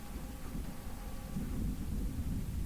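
Low, rolling thunder rumbles over a steady hiss of rain in the video game Chain, growing a little heavier midway, with no one speaking.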